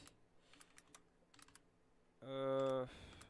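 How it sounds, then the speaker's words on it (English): Keystrokes on a newly bought computer keyboard clatter in quick, uneven bursts close by, followed by a short loud tonal burst near the end. "This is the keyboard I bought."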